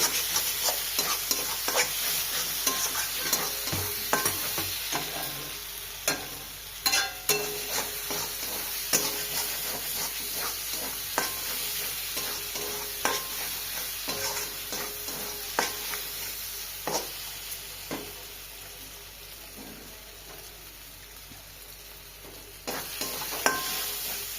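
Spice paste for a rohu fish curry sizzles and fries in a pan while a spoon stirs it, with frequent scraping clinks against the metal over a continuous low hiss. No one speaks.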